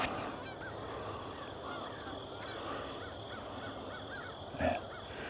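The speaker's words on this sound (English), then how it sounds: "Hear all the birds out in the background." Birds call outdoors in the Philippines, a scatter of faint chirps and caws over a steady background hush, with one louder call near the end and no one talking.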